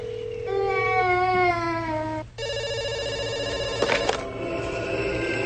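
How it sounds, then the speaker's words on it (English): A telephone rings in two bursts, each a loud, harmonic electronic trill, separated by a short break, over a low steady hum. "The phone's ringing."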